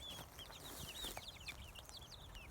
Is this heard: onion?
no